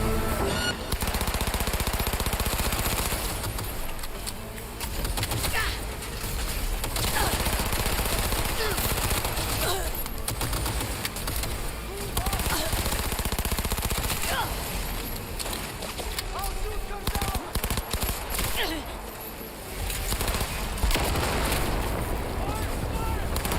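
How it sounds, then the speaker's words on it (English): Close-range gunfire in the game Cyberpunk: dense, continuous bursts of automatic fire and blasts with rumbling noise throughout, loud and near, with voices speaking beneath the shooting. "Firing at close range!"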